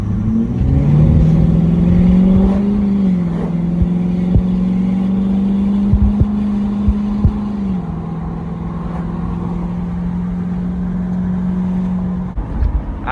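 A Ford F250 truck with newly installed intercooler piping pulls hard from inside the cab, its engine droning loudly and climbing through upshifts before easing off, with small clicks and rattles over the steady hum and no talking.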